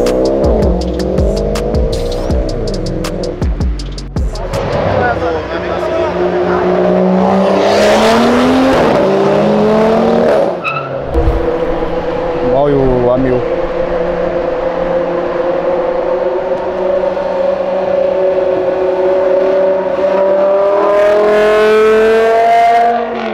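BMW M5 drifting on a street, engine revving hard with tire squeal and swooping pitch as the car slides and passes close by, loud and sustained with no talking.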